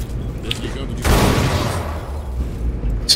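A grenade goes off in a shooter game with a sudden loud, broad blast about a second in, its roar lingering under a low rumble of background gunfire and game noise.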